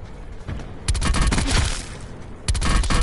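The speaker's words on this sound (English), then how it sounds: "There's one shooting at you from pizzeria." Bursts of sniper and rifle gunfire in Call of Duty Blackout, loud and close, with several sharp clustered shots and a second volley near the end, no talk.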